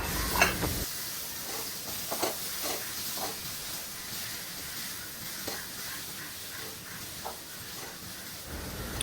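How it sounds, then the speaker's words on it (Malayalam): Bananas frying in hot ghee in a pan, a steady close hiss and sizzle with occasional small crackles and pops, no talking. "ഒന്ന് ചൂടായി വന്നതിന് ശേഷം നമുക്കിതിലേക്ക് പഴം ഇട്ട് കൊടുക്കാം"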